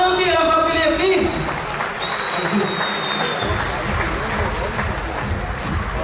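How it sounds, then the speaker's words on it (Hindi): An audience claps for a cardio surgeon at a lecture event in Indore, a broad sustained wash of applause under lingering musical tones, with crowd murmur mixed in. "एक बार तालियों चाहिए डॉक्टर साहब के लिए प्लीज"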